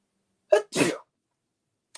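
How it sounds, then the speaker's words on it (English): Two quick sneezes close together, the first a short sharp burst and the second longer and breathier, with silence around them. "Had to sneeze, I'm sorry."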